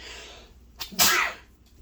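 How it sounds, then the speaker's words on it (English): A single loud sneeze, close to the mic, with a brief sharp intake just before the main burst, heard during a showcase of collectible action figures with no talking around it. "I'm gonna sneeze."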